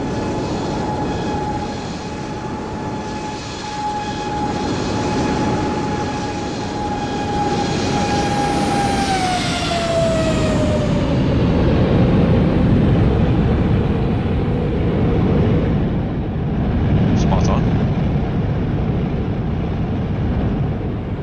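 A British Airways airliner departs from runway 09 right in Microsoft Flight Simulator 2024, its engine roar steady and broad throughout, with a high whine that drops in pitch as the jet moves away.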